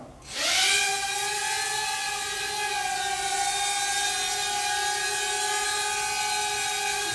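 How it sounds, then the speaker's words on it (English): An Eachine E61 mini drone spools up and lifts off indoors, its tiny motors rising into a high, steady buzzing whine with strong harmonics that holds close and loud. "I just accidentally gave a little bit of throttle, and let's take off."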